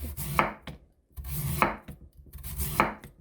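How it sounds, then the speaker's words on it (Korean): A knife julienning radish into very thin strips on a cutting board makes three bursts of rapid rubbing, scraping strokes, each ending in a firm knock. The sound is close, with no voices over it. "쑥 고기, 표고, 마늘, 무는 채 썰어요"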